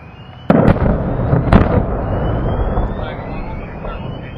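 An ammunition dump in Iraq blows up with sharp blasts at about half a second and one and a half seconds, then a long rumbling roar and crackle. An aircraft-like whine carries over it, and people talk nearby.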